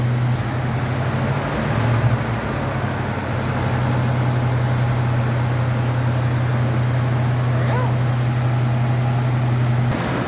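A 1986 Mustang with a swapped 302 engine runs on a dyno in an automotive shop, giving a steady, loud, low engine drone that holds evenly for the whole stretch under broadband shop noise.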